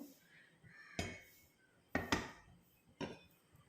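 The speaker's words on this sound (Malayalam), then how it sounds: "ഒന്ന് ഷേക്ക് ചെയ്താൽ മതി പാത്രം" A cooking pot of chicken molly is shaken to mix in coconut milk, giving three or four distinct close metallic knocks and clatters spaced about a second apart over quiet background.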